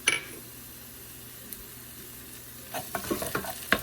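Stirring a pan of Peruvian creamed chicken (aji de gallina) as it fries, with a soft, low sizzle and a few scraping strokes that pick up near the end.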